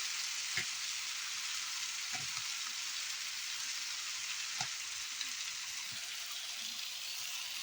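Chicken frying in a pan gives a steady, bright sizzle throughout, with a few faint clicks and knocks over the continuous hiss and no talk.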